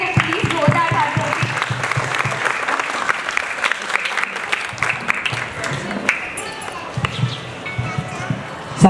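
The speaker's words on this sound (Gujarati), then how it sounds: "પ્લીઝ જોરદાર તાળીઓ" An audience at a Republic Day celebration applauds loudly for several seconds, with vigorous, uneven clapping and some crowd voices mixed in, close and continuous.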